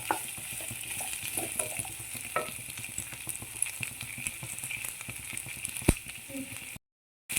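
Onions sauté in a pan for restaurant-style Gobi Manchurian, a continuous sizzle broken by frequent scraping stirs. A voice talks faintly over it, and it cuts to silence briefly near the end.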